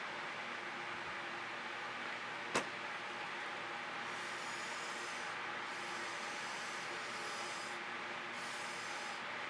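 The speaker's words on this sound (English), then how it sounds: "I blow into a composition to see what happens." Air blown across freshly poured acrylic and satin enamel paint, a soft steady hiss of breath throughout with one sharp tap partway through; no talking.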